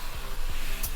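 Foam cleaner sprayed over the body of a restored barn-find car during paint prep, heard as a steady close hiss running without a break and with no talking.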